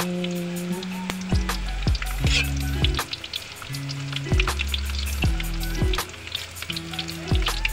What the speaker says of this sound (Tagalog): Ilalagay natin siya dito sa mainit na mantika na kumukulo-kulo